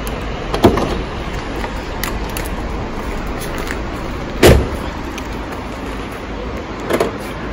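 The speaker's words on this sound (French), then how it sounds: "Alors, je sors Titou de la voiture." A car door thuds shut once, sharp and close, with a fainter knock before it and another near the end as a dog is taken out of the car in rainy weather, over a steady low hum.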